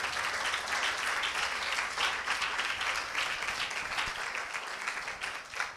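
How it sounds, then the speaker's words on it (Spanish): Applause from a Spanish-speaking church congregation during a service, steady crowd clapping heard at a moderate distance and fairly quiet, continuing evenly for several seconds. "Dele un fuerte aplauso a Jesucristo"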